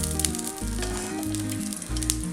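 Ghee sizzles in a hot pot for Malabar chicken biryani, a steady, crackling frying hiss heard close up over tonal background music.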